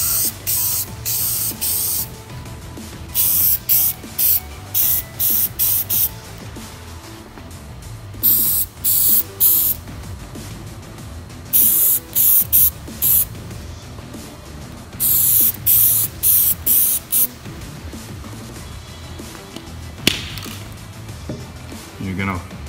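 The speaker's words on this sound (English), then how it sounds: "you're gonna wanna spray this stuff and hit them from all four sides" Repeated short bursts of aerosol lubricant spray onto brass cartridge cases hiss in clusters, each a quick pass, with quiet pauses and a low hum between.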